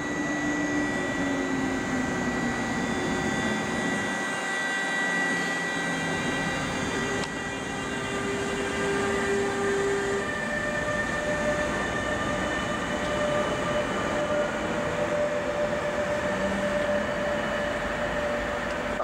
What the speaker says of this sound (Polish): EU47009 z pociągiem osobowym Kolei Mazowieckich do Mławy.